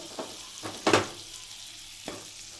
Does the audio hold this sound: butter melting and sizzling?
yes